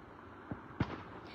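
Fireworks pop faintly in the distance, with two brief bangs, the second a bit stronger, over low background noise.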